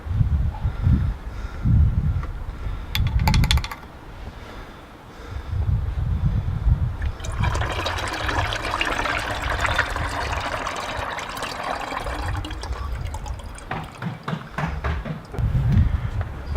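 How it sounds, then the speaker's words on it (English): Used brake fluid from a Peugeot 407 brake bleed poured into a funnel, a steady liquid trickle and splash lasting several seconds, close by, over low rumbling handling noise. "I'm gonna pour it into the funnel here."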